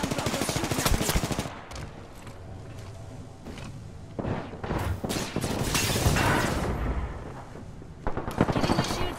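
Gunfire in a battle royale video game: repeated bursts of shots and booming impacts crackle through a dense, loud mix of game sound, with a voice talking over parts of it.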